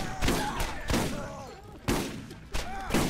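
Bursts of gunfire from a video game shooter come in three or four loud volleys spread across a few seconds, with game sounds in between and no talking.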